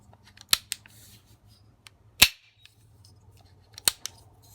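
Timney single-stage trigger on an AR-15 rifle clicking and resetting: a few sharp, isolated metallic snaps spaced apart, close and crisp against a quiet background.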